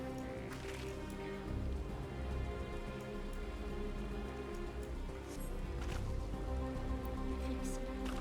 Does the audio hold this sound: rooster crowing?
no